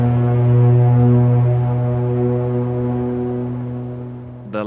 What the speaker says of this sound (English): The constant blowing of those damned foghorns silences everything without discrimination.